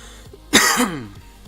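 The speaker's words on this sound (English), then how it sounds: "I shouldn't be coughing as much into the microphone." A single sharp, harsh cough bursts out close to the microphone, short and loud against a quiet background.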